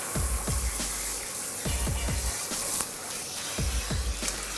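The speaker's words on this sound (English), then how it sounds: "So first I'm just going to rinse all of the color out." Water runs into a salon sink as hair color is rinsed out, with a steady spray hiss broken by repeated low splashes and thuds as the stream shifts.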